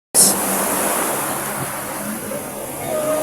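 Sea surf at a beach in Real, Quezon: a broad steady wash of waves and wind that starts abruptly and rolls on loud and continuous, with no talk.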